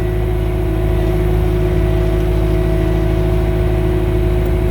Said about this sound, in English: Little track bobcat here, works just fine.